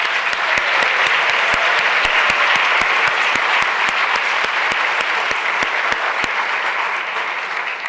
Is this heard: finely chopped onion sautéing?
no